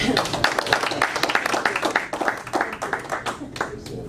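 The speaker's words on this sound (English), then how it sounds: "I'd like to give her a little round of applause for bringing her service." A small group claps at a county board meeting, a sparse, uneven round of individual hand claps close by, lasting several seconds with brief voices underneath.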